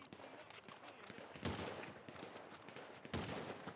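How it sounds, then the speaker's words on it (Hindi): Heavy gunfire crackles in GTA 5 during a firefight with a Mexican cartel, rapid faint bursts of shots with two louder volleys, continuous over a short stretch. "फायरिंग तो काफ़ी हो रही है तगड़ी"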